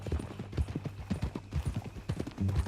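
Horse hooves clip-clop in Red Dead Redemption 2, a brisk, uneven walking rhythm of close, crisp hoof strikes continuing throughout without speech.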